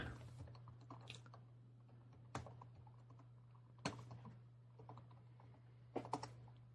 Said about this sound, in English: great podcasting is listening to your keyboard click